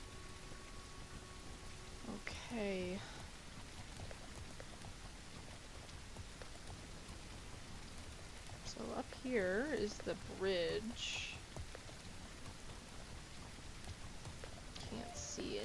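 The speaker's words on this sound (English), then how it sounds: "Ooh, lovely rain." Steady rain falls across the open landscape of the horse-riding video game Legend of Khiimori, a soft continuous hiss through the whole stretch while someone talks over it and brief tonal calls rise now and then.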